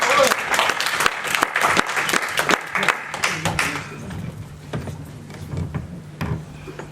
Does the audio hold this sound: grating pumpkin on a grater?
no